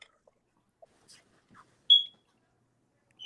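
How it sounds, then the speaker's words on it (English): Over a quiet call line, a single clear electronic beep sounds, followed by another at the very end, among a few faint scattered clicks. "Who's got the beeping going?"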